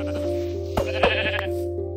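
A sheep bleats in a video game, a steady game tone running underneath while two short bleats sound clearly, one near the middle and another right after.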